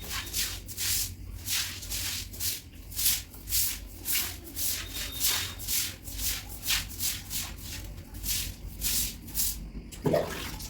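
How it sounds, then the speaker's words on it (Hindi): Household floor cleaning with water, lifting a lot of dust: steady rhythmic swishing and scrubbing strokes repeat about twice a second, close and moderately loud, with a brief knock near the end. "तो दोस्तों यहाँ पर पानी से साफ कर लेते हैं।"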